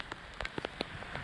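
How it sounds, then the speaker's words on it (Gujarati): Heavy rain pours down in Rajula, heard as a faint, even hiss dotted with soft drop taps over a brief moment. "રાજુલાની અંદર વરસાદ ફૂલ વરસી રહ્યો છે."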